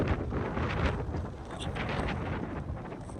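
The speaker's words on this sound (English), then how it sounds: "It's a little windy." Strong mountain wind in Colorado buffets the microphone in heavy, rumbling gusts that roar continuously, loud and close, with no voices.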